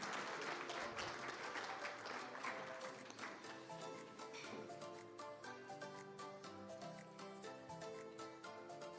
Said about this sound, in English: A clap of appreciation.